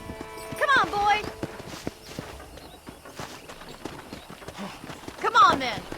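Horse hooves clip-clop at a slow walk on a ranch in Red Dead Redemption, steady and close, with a voice speaking over them and a brief whinny-like call near the start and end.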